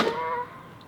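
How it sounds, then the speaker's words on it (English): Geese honk outdoors in a brief, moderately loud call at the very start, which quickly fades into quiet background. "sorry for the geese."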